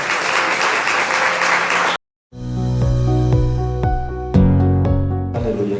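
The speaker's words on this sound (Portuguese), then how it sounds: "as palmas glorificam o Senhor" A church congregation gives a burst of applause that lasts about two seconds and then cuts off abruptly. Keyboard music follows with bright, sustained notes and chords.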